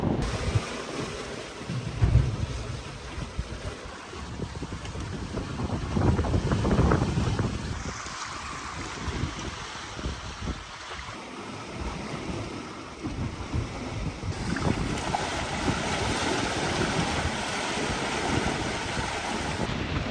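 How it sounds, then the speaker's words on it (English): Sailboat cruising at sea at 5 to 6 knots with about 12 knots of wind from behind under a favorite sail, steady wind buffeting the microphone over rushing waves and hull splash, loud and continuous throughout with no talk. "We're in the wind now doing 5 or 6 knots, and we got about 12 at our back, so cruising right along with one of my favorite sails."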